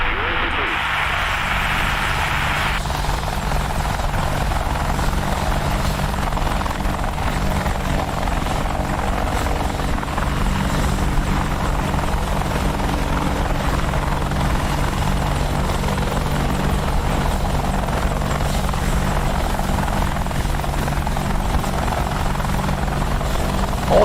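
In the DCS flight simulator, an Apache helicopter's rotor makes a steady, close drone with a low beating thrum under constant engine whine, continuing throughout.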